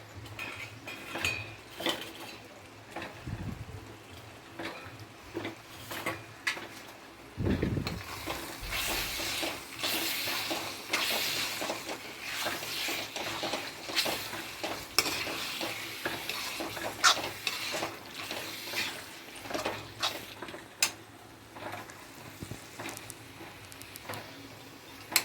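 Prawns are stir-fried in a pan for prawn biryani, giving a steady low sizzle and frequent scrapes and clinks of a spoon against the metal, with a louder burst of frying partway through and no talking.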